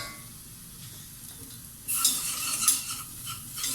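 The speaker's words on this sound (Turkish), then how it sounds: "Evet canlar şimdi bakın güzelce havuçlara un kavurduk." Flour roasting with carrots in a pot is stirred, a quiet scraping at first, then a spoon scrapes and knocks against the pot over a soft sizzle, close and rhythmic.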